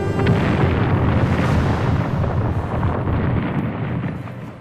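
A titanic explosion in the real-time strategy game Total Annihilation: Kingdoms, destroying a cavern entrance: a loud, dense, low rumbling blast that sustains for several seconds and slowly fades, with no voices.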